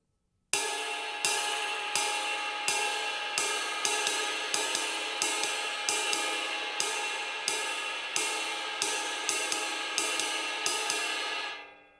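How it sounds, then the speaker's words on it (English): Snare drum doubles played with strokes as long as the singles, giving an uneven, slightly lopsided pattern of bright, sharp hits repeating steadily, loud and close with no talking. "If I try to play the doubles with the same length stroke as the singles, it sounds like this."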